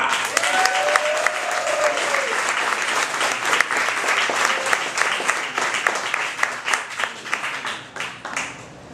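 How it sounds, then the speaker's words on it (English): Dense applause and clapping from an audience at a story reading event fill the whole stretch, steady and fairly loud, with a brief tonal whistle or cheer early on. "Give a big round of applause for Mr. Rene Garcia."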